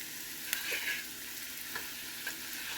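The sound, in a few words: stirring frying onions in a pan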